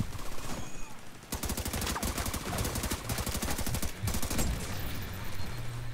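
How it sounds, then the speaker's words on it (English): Bursts of automatic gunfire rattle in The Division 2, rapid loud volleys that stop briefly and resume, dense and close, with a low rumble beneath. "open fire. Firing."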